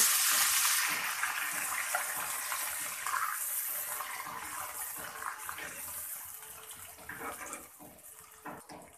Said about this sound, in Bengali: এখানে 1 কাপ জল দিয়ে দেব